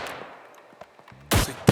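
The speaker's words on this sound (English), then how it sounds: "like people are shooting up here" Gunfire rings out in the spy shooter Deceive Inc., with scattered faint distant pops and then two loud, sharp close-range shots near the end.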